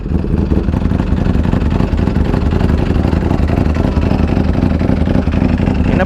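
A Ducati Panigale V4 fitted with an SBK performance exhaust runs steadily nearby, a loud, dense, throbbing engine rumble holding an even level throughout without clear revving.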